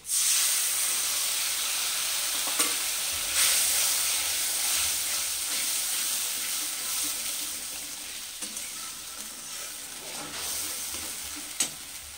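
Mustard-poppy paste hitting hot oil with black cumin in a pan, a loud continuous sizzle and hiss that flares at first and slowly eases, with a few sharp stirring clicks.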